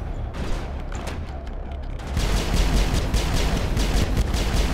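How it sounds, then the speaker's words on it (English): Rapid pistol fire in the video game Mass Effect, with dense, fast repeated shots that grow louder and heavier partway through, set against a steady roar of battle. "It's the beauty of this pistol, it's just freaking destruction."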